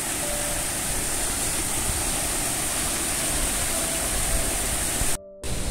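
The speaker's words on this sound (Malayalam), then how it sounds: "നല്ല മനോഹരമായിട്ടുള്ള ഒരു വെള്ളച്ചാട്ടമാണ്." Aattukad waterfall near Pallivasal in Munnar roars as a steady, dense wash of falling water, loud and unbroken throughout, with a brief dropout near the end.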